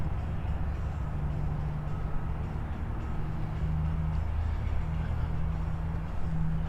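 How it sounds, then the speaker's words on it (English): Triumph Scrambler 400 X and Speed 400 motorcycles idling through their mufflers, a steady low exhaust rumble with a faint hum, continuous and moderately distant with no talking. "there's a little difference in the mufflers and how the bikes sound"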